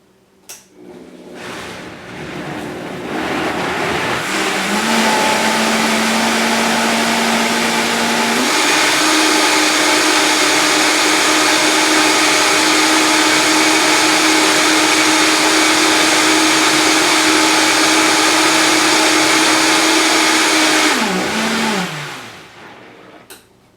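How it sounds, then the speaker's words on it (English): A Vitamix blender whirs for about twenty seconds while mixing a protein shake with cacao powder, loud and steady, stepping up to a higher speed partway through before spinning down. "So ready to turn on the Vitamix."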